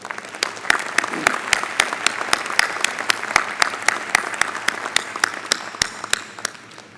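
A commencement audience for a health sciences university's Class of 2021 applauds in a steady wash, with one nearby pair of hands clapping sharply and evenly on top.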